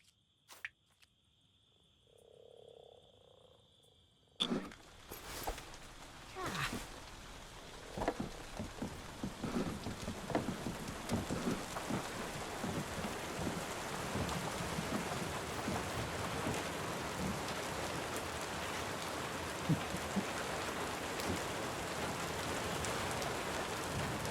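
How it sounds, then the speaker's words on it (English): Night rain in the video game Tavern Keeper: a sharp onset leads into a steady, dense patter of rainfall that builds and holds, with no voices over it. "Seems we're in for a rainy night."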